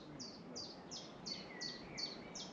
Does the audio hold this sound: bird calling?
yes